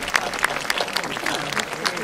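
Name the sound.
crowd applauding the bridge builders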